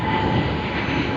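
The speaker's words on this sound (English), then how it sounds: "The awesome A350 of Cathay Pacific now on its takeoff roll for its flight to Hong Kong" A Cathay Pacific Airbus A350 jet rumbles on its takeoff roll at Sydney Airport, bound for Hong Kong, a loud steady engine roar filling the moment.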